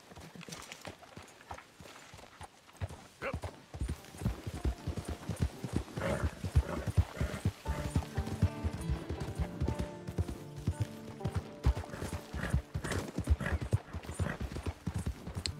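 Steady clip-clop of horse hooves trotting at a regular rhythm, fairly close, with game music and ambient sounds underneath, in Red Dead Redemption 2.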